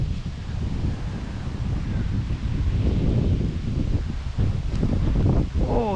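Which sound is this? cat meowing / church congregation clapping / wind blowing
wind blowing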